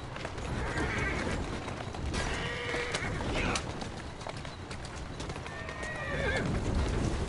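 In Assassin's Creed Syndicate, hooves clip-clop steadily while a horse neighs and whinnies a few times over a busy ambient background.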